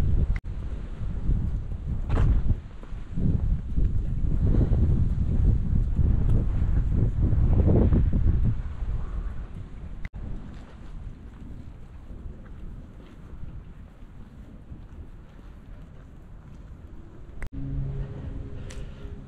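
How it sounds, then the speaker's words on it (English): Wind gusts buffet the microphone outdoors in a cemetery on a cold day, a loud low rumble for the first several seconds that then eases to a softer, steady blowing, with no talking. "wind is starting to kick up"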